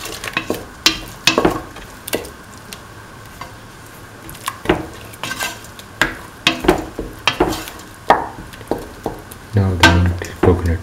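Spoon stirring a mint and grated coconut dip with tempered mustard seeds in a pan over the flame, as repeated scraping strokes with a light sizzle beneath, close and moderately loud.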